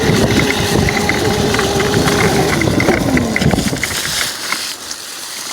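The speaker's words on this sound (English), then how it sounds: "this is my dirt bike in the spot" A squatted dirt bike engine runs at a steady idle close by, a continuous rough drone with a light rattle that thins and drops away in the last second.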